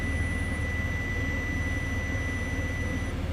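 Multimeter continuity tester on a 2006 Silverado A/C wire: a steady, unbroken high tone sounding continuously over a loud low rumble, then ending just before the close.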